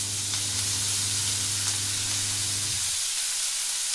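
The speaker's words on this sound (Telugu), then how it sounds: "ఇప్పుడు దాంట్లోనే ఇవ్వండి టమాటా ముక్కలు వేస్తున్నానండి." Tomato pieces hit a hot pan with curry leaves and sizzle steadily and loudly, with a low hum that drops away near the end while the bright frying hiss continues.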